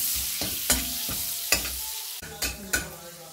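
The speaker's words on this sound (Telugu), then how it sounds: "బటర్ వేసుకుని తర్వాత ఈ మసాలా ఐటమ్స్ ఉన్నాయి కదా అవన్నీ వేసుకుని ఫ్రై చేసుకుందాం కొంచెం" Masala spices frying in butter in a pan for a winter home-cooked dish, a steady close sizzle broken by several sharp stirring scrapes and clinks, with no talking.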